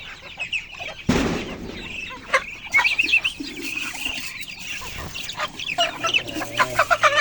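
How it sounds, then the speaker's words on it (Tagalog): Domestic ducks in a rural pen, with a chorus of overlapping quacks and squawky calls and some chirping birds, close and fairly loud, plus a sharp rustle or clatter near the start. "Ito yung mga bibi o itik ko guys."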